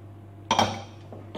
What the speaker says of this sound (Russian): Перемешиваем вот так чуть-чуть ложечкой.